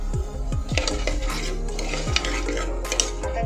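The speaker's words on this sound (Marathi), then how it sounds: "हे चांगलं मिक्स करून घ्यायचं" Mixed pulses are stirred into rice for khichdi in a pot, with repeated scraping strokes of a spoon against metal and a low steady cooking hiss underneath.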